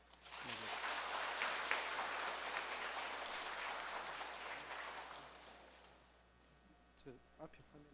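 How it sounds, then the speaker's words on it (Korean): A church congregation claps together for a visiting priest's Christmas lecture, a dense burst of applause that swells quickly, holds for several seconds, then fades out, followed by a few faint knocks. "힘찬 박수로 좀"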